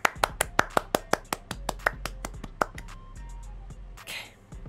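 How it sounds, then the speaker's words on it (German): Sharp, close hand claps, about fifteen of them, in a steady rhythm that slowly eases off and fades, followed by a brief quieter hiss. "Dies ist nach dem ersten Test wohl ein Applaus wert"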